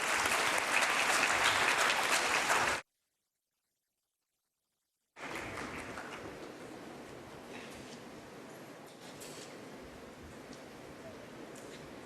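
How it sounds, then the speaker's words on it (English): An audience gives steady applause as speakers come on stage at an event, a broad wash of clapping that cuts out to silence for a few seconds and then resumes somewhat quieter and continues. "Please give them a round of applause."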